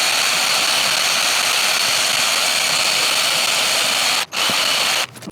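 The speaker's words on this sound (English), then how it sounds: "today I have my drill with an eraser wheel on it" A power drill fitted with an eraser wheel whines continuously at high speed on a WRX's body, with a steady, grinding hiss, cutting out briefly twice near the end.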